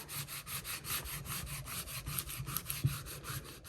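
A squeegee rubs a vinyl stencil down onto a wooden sign in quick, steady back-and-forth strokes, close and fairly soft, with no talking.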